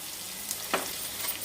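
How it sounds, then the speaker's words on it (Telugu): Mustard seeds spluttering in hot oil in a small pan, a steady sizzle with a couple of sharp pops standing out, close and moderately loud. "ఒక చిన్న పాన్ పెట్టి ఆయిల్ వేసిన, ఆవాలు కొంచెం చిట్లాలి అవి"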